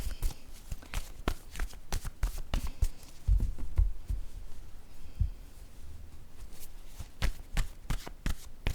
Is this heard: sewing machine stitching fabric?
no